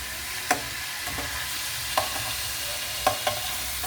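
A pork chop marinated in soy sauce and calamansi fries in a pan with a steady, close sizzle, broken by a few sharp clacks of a utensil against the pan.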